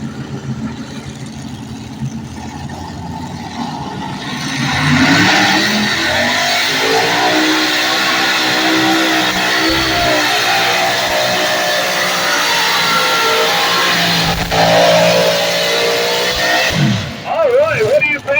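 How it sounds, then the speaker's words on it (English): Light modified tractors roaring down the track at an NTPA tractor pull in Dorr, Michigan, a loud sustained engine thunder that swells after a few seconds and holds, with an announcer talking over it. "Think of those light modifieds. Yeah, they thunder, don't they?"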